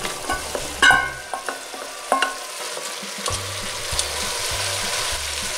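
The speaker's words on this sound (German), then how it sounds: "Und geben jetzt unser Gemüse dazu und rösten das mit an." Vegetables roasting in a pan for a lamb rosemary sauce, close sizzling with stirring scrapes and spoon knocks, a low rhythmic hum underneath, no speech.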